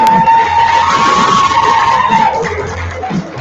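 An audience claps and cheers for a poet after scores are read at a Louder Than a Bomb Great Plains youth slam, a steady wash of applause and crowd noise, with a high whistle-like tone over the first two seconds.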